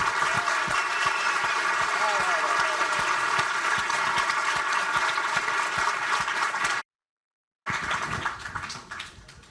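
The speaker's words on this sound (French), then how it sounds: "Posez les portables et applaudissez." Cannes festival crowd giving Matt Damon an ovation, dense sustained applause with scattered shouts and murmurs, broken by a short silent gap before the clapping resumes.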